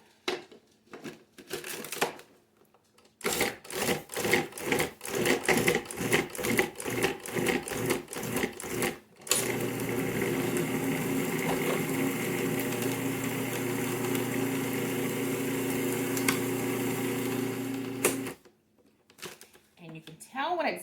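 A food processor pulses shortbread cookie dough in rapid bursts, then runs in one long continuous whir before stopping, with brief talk at the start and end.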